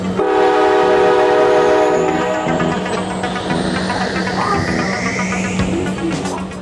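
A train horn sounds loudly for about two seconds, followed by rolling rail noise with a rising whistle-like tone, played as a stream alert.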